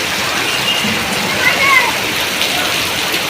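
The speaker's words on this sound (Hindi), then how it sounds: "देखिए बारिश हो रही है।" Heavy rain falls in a steady, dense hiss that holds throughout, with a brief swell of sound partway through and no distinct speech.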